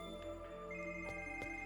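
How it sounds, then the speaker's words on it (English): A telephone rings in the video game Another Code: Recollection, a faint electronic trill with sustained tones and a couple of soft chiming hits, alone at low volume. "Alright, I'll answer the damn phone."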